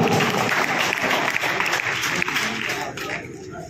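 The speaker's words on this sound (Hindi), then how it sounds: "जोरदार तालियां के लिए।" Sustained clapping from a crowd at a school results ceremony, dense and steady throughout, tapering slightly near the end.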